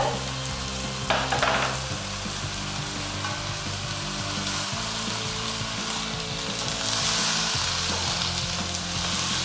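Broccoli, carrots and sprouts stir-frying in a pan, a loud steady sizzle with a brief clatter of vegetables going in and some scraping, close and continuous without talk.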